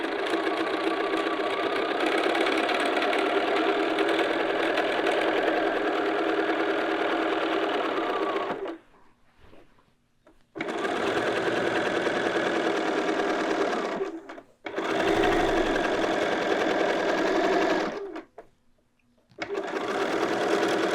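Sewing machine stitching a skirt seam in long steady runs with a fast, even mechanical whir, stopping briefly three times between bursts of stitching.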